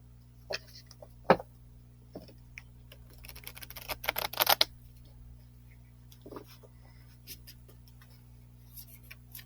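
A tarot card deck being shuffled: quiet, scattered papery ticks and riffles, with a denser burst of card flutter midway, close by in a quiet room.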